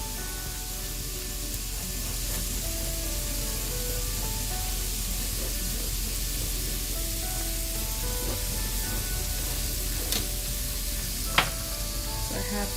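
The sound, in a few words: pork browning and sizzling in a pan on the stove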